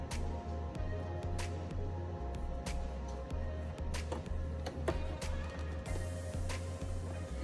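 A sewing machine stitches the elastic seam of a fabric nose-wire face mask, its needle thumping in a fast, even rhythm close by and fairly quiet, with a few sharper clicks and a brief whir near the end.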